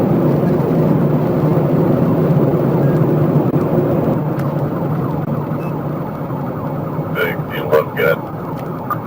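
A fully marked state trooper cruiser's siren wails steadily through a traffic stop, loud and continuous under heavy road and engine noise, with a few sharp chirps near the end.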